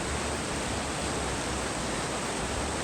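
Dense, unbroken roar of a waterfall pouring down from Royce Lakes in the High Sierra wilderness, a constant broadband rush filling the whole stretch with no other sounds.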